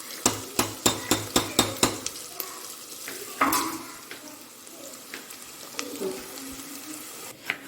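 Cumin seeds and onions frying in a pan, a run of sharp, regular clinks from a spoon against the pan at the start, then a steady sizzle with occasional scrapes.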